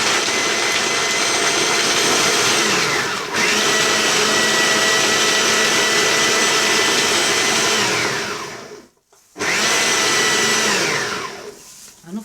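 An electric kitchen chopper whirs loudly as it minces bell peppers, running in steady high-pitched bursts with a brief dip, a short stop near the end, then another burst that winds down.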